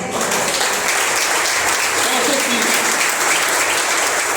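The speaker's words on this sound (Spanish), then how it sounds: "¿Cuánto le dan un aplauso al Señor?" A church congregation bursts into dense, sustained applause, many hands clapping together loudly and evenly with some voices mixed in.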